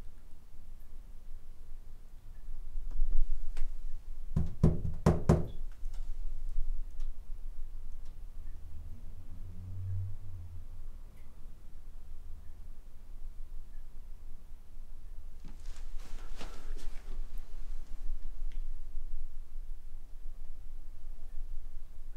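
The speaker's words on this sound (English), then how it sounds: "That was you knocking." Knocking inside a reportedly haunted house: a quick cluster of sharp raps around the middle of a quiet, hissy room, with a fainter scattering of taps later on.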